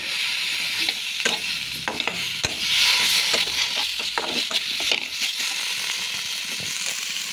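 Chopped tomatoes tipped into a hot frying pan of spiced fish, cauliflower and potato, then stirred with a spatula: a steady loud sizzle with repeated scraping clicks, no talking.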